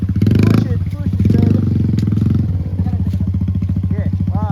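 A motorcycle engine revs and chugs on a rough mountain trail in Sierra Madre, Tanay, Rizal, loud and close with a rhythmic pulsing putter, surging and easing as it climbs, with people talking and urging over it.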